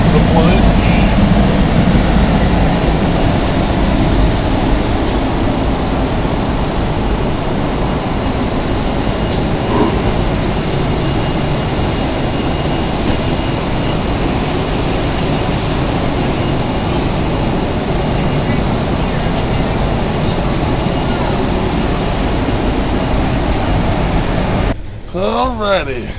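Cabin noise on a Delta Airlines flight about three hours in: a steady, broad roar of engines and air that holds without change, loud and close. A brief clatter comes near the end.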